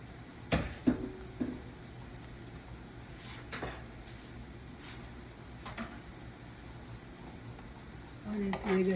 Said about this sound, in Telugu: ఈ ఆనియన్స్ కొంచెం కలర్ మారాలని అప్పటి వరకు కొద్దిగా మనం వేయించుకున్నాము